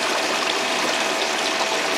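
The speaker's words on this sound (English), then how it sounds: "that little pump's down there just working away" A small water pump feeds a gold highbanker, with constant rushing, gushing water flowing steadily and fairly close, no voices over it.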